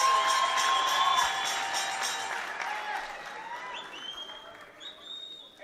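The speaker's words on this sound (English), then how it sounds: "Let's give the two boxers a big round of applause." Arena crowd at a Pan-African lightweight championship boxing match applauds and cheers loudly for the two boxers after the bout, a dense sustained roar of clapping with shouts that slowly tapers off.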